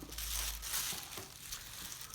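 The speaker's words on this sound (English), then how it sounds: "we're going to take a plastic bag" A plastic bag being handled and crumpled gives soft, close crinkling and rustling in uneven bursts, quiet and alone.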